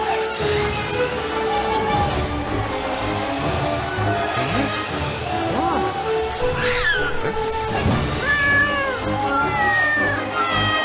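A cartoon cat meows several times over busy animated-series background sound and music, with drawn-out, wavering cries standing out clearly throughout.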